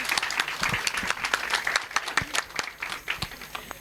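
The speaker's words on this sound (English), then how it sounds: "Give her a big round of applause" An audience applauds a singer at a freshers orientation day, a steady wash of many hands clapping, fairly loud and close, with a few sharper individual claps.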